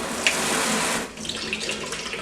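Tap water runs into a drinking glass, a steady close hiss of flow that changes pitch near the midpoint as the glass fills, with no talking.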